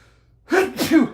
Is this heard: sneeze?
yes